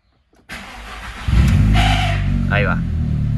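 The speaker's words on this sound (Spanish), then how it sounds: "Ese ruido que hace el arranque, lo vamos a desarmar también." An Audi A3 1.8 Turbo starter motor cranks with a noisy grind before the engine catches and settles into a running rumble, close and fairly loud.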